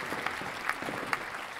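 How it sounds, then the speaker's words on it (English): Brief burst of applause from a virtual crowd in a restaurant-franchise management video game, a few clap peaks over a steady bed of game ambience, with no talking. "A little applause."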